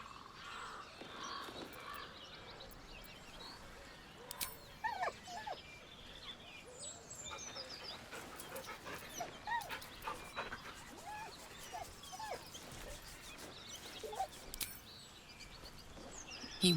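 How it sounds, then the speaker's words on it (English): A dog in Baldur's Gate 3 whines and whimpers softly in short, scattered bursts over a quiet outdoor ambience, with occasional crow caws in the background. "He whines, but remains rooted by the corpse's side."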